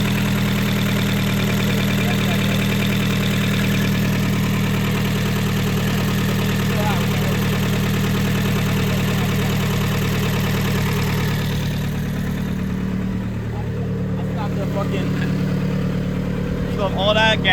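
A Scion tC four-cylinder car engine idles steadily with a low, even hum, briefly dipping once and then settling back to its constant rumble.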